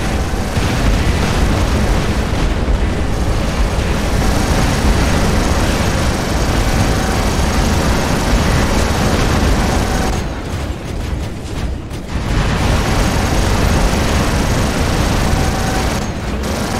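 Dense, continuous battle din from a War Robots video game match: sustained gunfire and booming explosions fill the whole stretch at high loudness, with a brief dip in the barrage partway through before the firing resumes.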